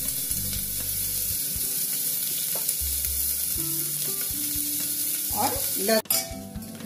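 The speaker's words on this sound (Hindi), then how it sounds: "अब मैं यहाँ चॉप ऑनियन, कटा हुआ प्याज डाल देती हूँ।" Chopped onion frying with whole cumin in a pan sizzles in a steady close hiss, with stirring scrapes and a louder crackling burst near the end; a voice speaks briefly.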